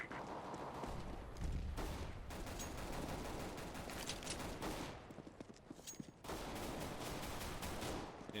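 Rapid gunfire bursts in a competitive shooter video game, dense crackling volleys in quick succession with brief pauses between, loud and close.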